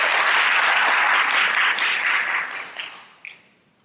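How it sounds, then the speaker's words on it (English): A post-film discussion panel audience gives a sustained round of applause, broad and steady before thinning out and fading to a few scattered claps at the end. "Let's join them in a round of applause"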